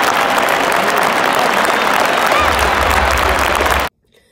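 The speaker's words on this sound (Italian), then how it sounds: "faccio anche io l'applauso adesso alla regina" Stadium crowd at an Italy versus England football match applauding the queen, a dense, loud, steady wash of clapping from thousands of fans that cuts off abruptly near the end.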